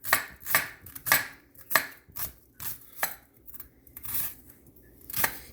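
Knife chopping an onion on a cutting board for a stir fry, about ten crisp close chops in an uneven rhythm, alone without talk.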